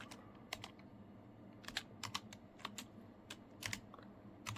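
A computer keyboard being typed on while entering a Linux mount command during a PlayStation Classic memory upgrade: a close, fairly quiet series of irregular keystrokes in short bursts, with no talking.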